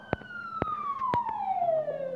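A police car siren in the Truck Simulator Ultimate video game wails in a steady downward sweep, fairly close, broken by a few sharp clicks.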